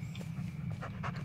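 A dog pants in the Blair Witch video game, a quick run of soft breathy huffs repeating over a steady low drone, fairly close and not loud.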